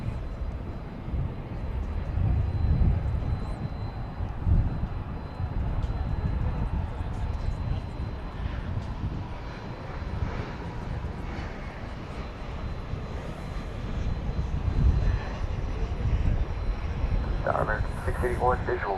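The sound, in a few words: United Boeing 737-900 airliner at DFW airport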